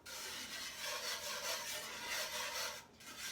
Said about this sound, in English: Again, I continue to use my whisk, scraping from the bottom of the pan.